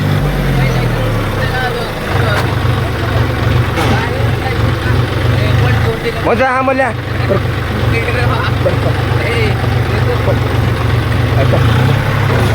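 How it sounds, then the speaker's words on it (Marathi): A tractor engine running close by in a village, a loud steady low chugging drone under frequent talking. "ट्रॅक्टर चालू केला"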